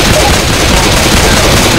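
Dense, loud gunfire fills the scene in the video game Left 4 Dead 2, a constant roar of shots and blasts with no clear gaps between them.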